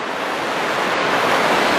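Roaring water at the edge of the Devil Pool waterfall in Zambia, a loud, dense, unbroken rush that fills the whole moment with no voices.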